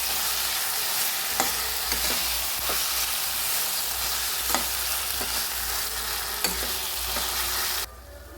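A spatula stirs crumbled paneer with green beans in a frying pan, a steady loud sizzle with repeated scraping strokes and no voices, ending abruptly.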